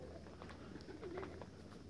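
A racing pigeon gives a soft, faint coo outdoors, a single low warbling call over quiet background hiss.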